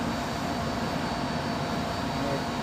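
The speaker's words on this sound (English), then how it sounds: "So now we're going to see aircraft approaching" A steady, broad roar from an aircraft approaching Heathrow runway 27L to land, its engine noise filling the whole stretch evenly with no talking.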